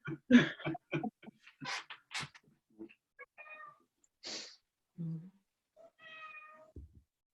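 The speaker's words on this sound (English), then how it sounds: "Oh, somebody's cat." A house cat meows several times, clear and close, with short separate calls spread across a quiet room and brief pauses between them.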